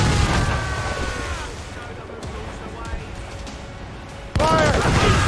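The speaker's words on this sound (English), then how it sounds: "Mortars, there! Fire!" Ship mortar fire during a naval battle in Assassin's Creed Rogue, heavy booming blasts and rumbling explosions amid battle noise, with shouted voices over the din and a loud new burst near the end.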